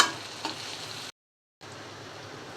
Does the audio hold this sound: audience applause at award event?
no